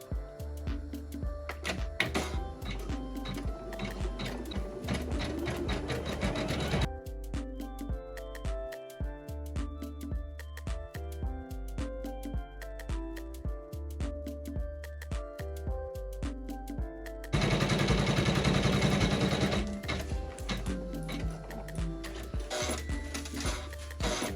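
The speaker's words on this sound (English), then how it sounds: "let the machine stitch out the satin stitch" A Janome 500E embroidery machine sews a satin stitch on an in-the-hoop Christmas ornament, with a dense, steady needle clatter running throughout and a louder, busier stretch near the end, with no voices.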